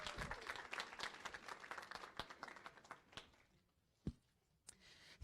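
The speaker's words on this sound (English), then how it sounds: "Let's give Betsy another round of applause for sharing her story" An audience at a school district meeting gives a woman a thick, continuous round of applause for sharing her story, then it tapers off into a few scattered late claps and near-silence.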